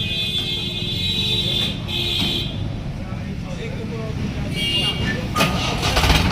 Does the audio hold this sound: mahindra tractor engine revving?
yes